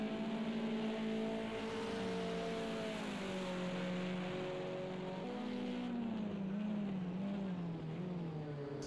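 Touring car engines in a Project CARS 2 race at Sonoma, a steady droning engine note rising and falling through gear changes and revs, heard continuously at moderate distance with no voices.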